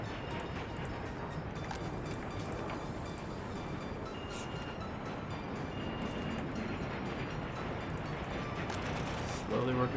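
A train rolls along rails in the Workers and Resources city-building game set in 1930s Poland, a steady low rumble under continuous talk from start to finish.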